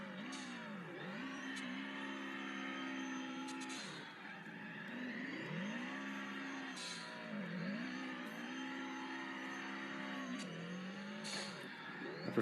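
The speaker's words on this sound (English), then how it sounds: "I prefer this car for sliding rounds than I do the Evo" A turbocharged Subaru rally car revs and slides around a track, its engine note repeatedly swooping up and down through gear changes, with short bursts of tire noise between the revs.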